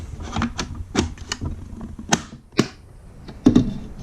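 A Garmin Echomap unit being handled and clicked into its mount, a series of sharp, close plastic clicks and taps spaced irregularly over a few seconds, with quiet pauses between.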